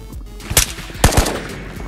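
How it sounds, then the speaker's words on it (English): Gunfire in the video game Ghost of Tabor, two or three sharp, loud close shots spaced about half a second apart, alone with no talk. "I shot a Robert or a Victor"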